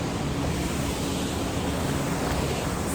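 Steady, dense roar of rushing water from a waterfall spilling into river pools, broadband and constant throughout with no voices.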